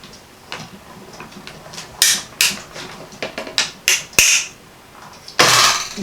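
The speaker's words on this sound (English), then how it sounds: "I'm just going to lay this down on my die machine, my Stampin' Cut and Emboss machine." Paper cut in a Stampin' Cut and Emboss die-cutting machine: a series of close, sharp crackling and crunching bursts with brief clicks in between, ending in a longer loud grinding crunch.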